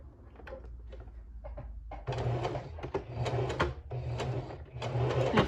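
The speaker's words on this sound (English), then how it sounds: "I am using a zigzag stitch, a long zigzag stitch." Home sewing machine running a long zigzag stitch to attach elastic, a soft whirring start followed by several loud, close bursts of rhythmic mechanical stitching with short pauses between runs.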